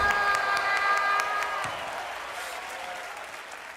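A film audience claps and cheers in a continuous crowd roar, moderately quiet and distant, with a few sharp claps standing out early before it settles into a steady wash.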